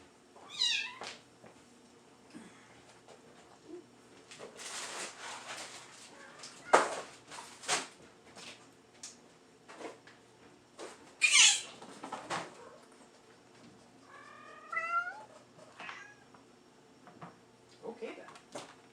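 A cat meows several times in a quiet kitchen, short rising calls spaced apart and fairly close, mixed with scattered clunks and rustling from fridge cleaning.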